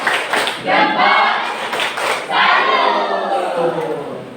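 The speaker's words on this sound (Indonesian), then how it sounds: "Oke, coba ya. Tepuk salur." An elementary school class performs a rhythmic clapping chant, tepuk salur, with children clapping and shouting the call-and-response words together in loud bursts.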